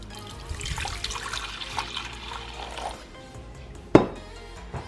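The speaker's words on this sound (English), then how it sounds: "So we'll start by pouring some of it in here." Warm milk for homemade yogurt is poured into a container, a soft, steady liquid stream and gurgle that fades after a few seconds, ending with a sharp clink of the vessel.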